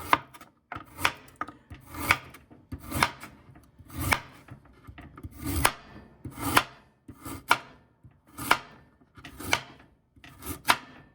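A knife chops through carrots on a wooden board in steady, evenly spaced strokes, each cut a crisp thud, with no talking.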